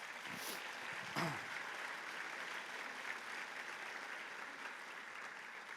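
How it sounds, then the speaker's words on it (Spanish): A church congregation applauds steadily in a dense wash of clapping that holds at an even level throughout, with no speech over it. "¿Cuánto le dan un aplauso al Señor por ser espirituales?"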